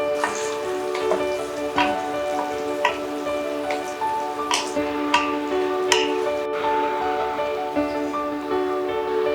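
Broken cashews and raisins fry in hot ghee in a wok, giving sharp scattered pops and ticks over a constant soft hiss, close and moderately loud.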